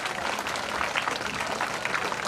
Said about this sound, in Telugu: విద్యార్థులు అందరూ కూడా ఒకసారి గట్టిగా క్లాప్స్ కొట్టాలి అందరూ